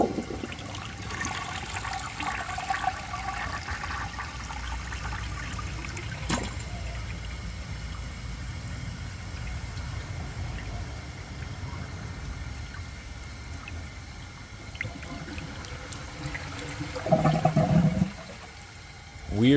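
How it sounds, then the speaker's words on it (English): A 1965 Southern Porcelain toilet flushes and siphons, a long continuous rushing and trickling of water, up close, that ends with a brief louder gurgle of the siphon near the end. "It also looks like it might be able to pull it through by itself if I give it another flush."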